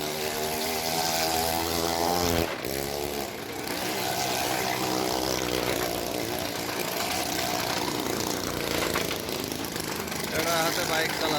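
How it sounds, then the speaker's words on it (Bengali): At a centuries-old village fair, a motorcycle runs on a wooden well-of-death track, its engine droning and revving continuously and loudly, with a brief dip, while voices and crowd noise mix in underneath. "এখানে এই কাঠের পুলের উপর দিয়ে মোটরসাইকেল চালানো হবে"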